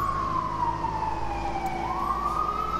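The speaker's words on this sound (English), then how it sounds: "Sirens. We're living in a world of sirens nowadays." A loud emergency siren wails close by, its pitch sliding down and then climbing again in one continuous sweep.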